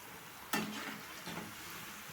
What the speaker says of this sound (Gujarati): આ રીતે આપણે બધા જ શક્કરપારા તળી લેવાના છે